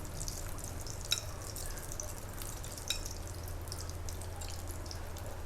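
Plain tofu begedil patties fry in hot oil with a steady, soft sizzle and occasional sharp pops and drips, heard alone without voices.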